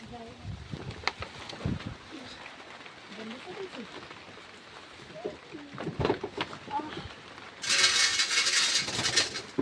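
Pigeons in a village in Kakdwip, West Bengal, cooing softly in the rain amid scattered bird calls and nearby voices, before a burst of loud hissing rain or water noise takes over at the end.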